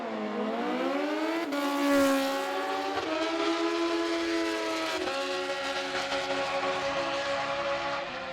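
Modified drag racing motorcycles at Sydney Dragway during a NSW Championship final, engines screaming loud and near with rising pitch through repeated gear changes, sustained without talk.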